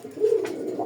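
A desi Rajgolla pigeon gives a single short, soft coo, brief and low, close by with quiet background.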